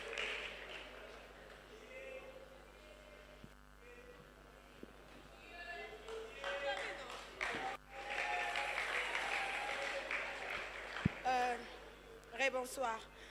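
A church congregation breaks into applause in praise of the Lord, a sustained, fairly distant wash of clapping that swells and lingers, with voices carrying over it.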